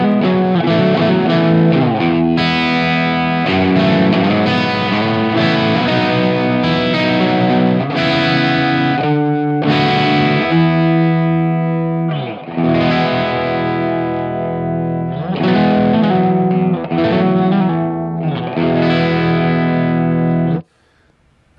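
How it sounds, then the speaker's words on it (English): Distorted electric guitar plays chords through a 4x12 Greenback-style speaker cabinet, loud and close-miked, with a steady driving rhythm and brief pauses before ringing out and cutting off. "I have a 412 greenback style speaker setup, and I have my choice of different microphones"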